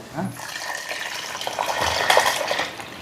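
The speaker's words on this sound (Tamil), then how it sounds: "தக்காளி போட்டுருவோம் தண்ணி ஊற்றிட்டு வதக்குறேன்" Water is poured into a hot pan of tomatoes being sautéed for a stingray fish curry, making a splashing, sizzling pour that swells in the middle and continues to the end, close and fairly loud.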